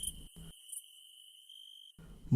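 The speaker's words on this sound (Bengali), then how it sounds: "অসংখ্য ঝিঁঝি পোকার ডাক ছাড়া কোথাও জনপ্রাণীর সাড়া নেই" Countless crickets chirp at night as a steady, high, continuous trill, with low muffled rumbles at the start and end.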